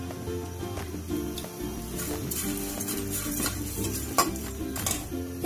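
Small dried shrimp dry-roast in a pan, with a spoon scraping and clinking against the metal in busy, close stirring strokes over a light sizzle.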